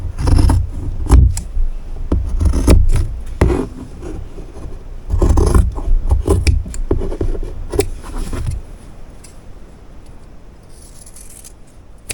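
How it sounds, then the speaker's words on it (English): Material for a sewing project being cut, with repeated rough scraping and crunching cuts, close and loud, coming in bursts before easing into quieter handling noise toward the end. "Well, actually, let's just go ahead and cut them."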